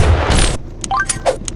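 A springy shotgun in Pixel Gun 3D fires one loud booming shot up front, followed by a few short bright ringing game effects and pops that fade out over the next second.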